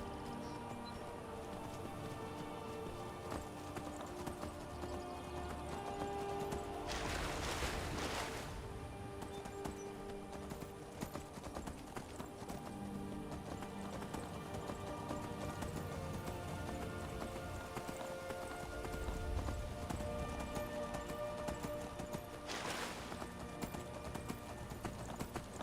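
Skyrim horse hooves gallop in a steady, continuous clip-clop rhythm across open ground under a constant bed of game ambience and music, with brief whooshing bursts partway through.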